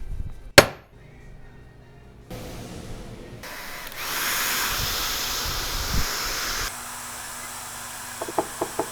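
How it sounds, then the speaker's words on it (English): A power tool works sterling silver stackable ingots, with hissing, grinding tool noise that shifts across several passes, a sharp clank near the start and a few brief taps at the end. "On this pass, I'm just trying to burnish it."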